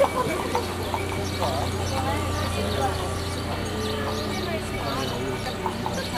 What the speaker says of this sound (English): this delightful horse and carriage was being well used too